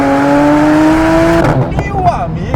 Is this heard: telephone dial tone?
no